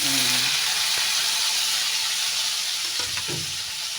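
Tomatoes sizzling and frying in a pan alongside garlic for sarsado tilapia, a steady loud hiss with a few clinks of stirring and a brief voice early on.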